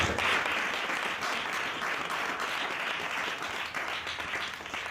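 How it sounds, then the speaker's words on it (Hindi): A church congregation claps steadily during a sermon, a dense, even roll of applause lasting throughout at moderate level. "ताली बजाएं इसके लिए"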